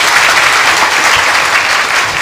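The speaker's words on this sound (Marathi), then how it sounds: "ताईंसाठी जोरदार टाळ्या वाजवा" A crowd at a devotional kirtan performance applauds loudly and continuously, a dense wash of clapping with no break and no speech.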